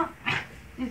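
A dog gives a brief, high, nasal whimper, a short whine lasting well under a second, close by with a little background noise around it.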